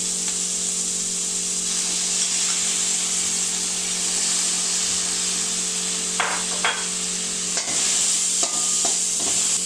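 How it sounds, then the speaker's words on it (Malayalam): Medium prawns hiss in a hot pan for a prawn roast, a loud continuous sizzle with a few quick spatula scrapes and knocks near the end. "ഈ ഇതിനകത്തേക്ക് നമ്മൾ റെഡിയാക്കി വെച്ചിരിക്കുന്ന ചെമ്മീൻ ചേർക്കുകയാണ്"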